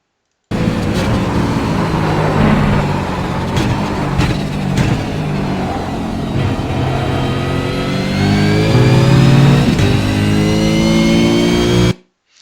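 Race car engine in close, loud onboard sound at Le Mans, with the revs rising and falling as the driver brakes hard in a straight line and downshifts into second gear for a left-hand corner, then pulls away accelerating.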